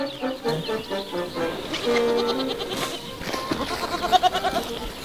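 Several sheep bleat nearby in overlapping, wavering calls, some higher and some lower, with a rapid quavering bleat near the end.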